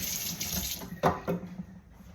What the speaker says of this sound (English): I'm going to have to wash my hands because they're very greasy now for obvious reasons